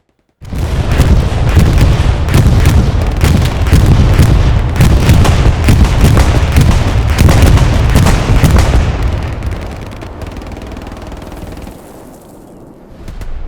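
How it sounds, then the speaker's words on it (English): A loud barrage of booms and rapid gunfire-like blasts in the video game Hell Let Loose rolls on for several seconds, then fades into a low rumbling tail. "those explosion visual effect improvements have been mirrored by new audio effects for Explosions"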